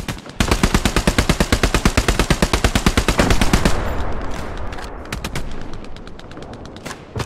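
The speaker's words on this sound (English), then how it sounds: "There's an MG in that building." A machine gun fires from a building in Hell Let Loose during the D-Day Normandy invasion. One long, fast, loud burst rattles for several seconds, then scattered distant shots and shorter bursts follow.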